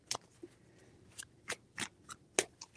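Tarot cards are shuffled by hand in several quick separate riffles and taps, close and crisp, with quiet gaps between them.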